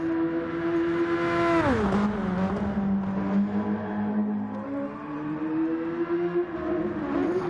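Super Formula SF23 race car engine in a racing video game at the Red Bull Ring, a loud whining tone that drops sharply as it shifts down, then climbs steadily again as it accelerates through the lap.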